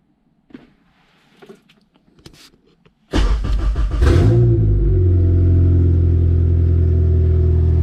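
A Honda K24 engine swapped into a 1983 Volvo 240 cranks and fires for its first start after a few quiet clicks and shuffles, then settles into a loud, steady idle close by.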